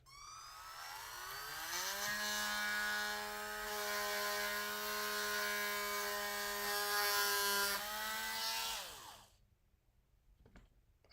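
A drill with a keyless chuck whines steadily as it bores into a hard plastic toy, a loud sustained motor tone that rises briefly, then cuts off, leaving a couple of faint clicks.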